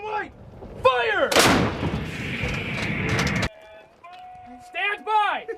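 U.S. Marines artillery gun firing during training: one loud, close blast that rolls on for about two seconds, with shouted commands before and after it.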